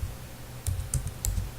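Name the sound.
typing a project name on a computer keyboard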